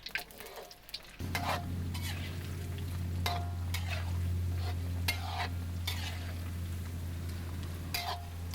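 Kekian sticks frying in hot oil, a loud steady sizzle that starts abruptly about a second in and continues throughout with occasional crackling bursts, no talking.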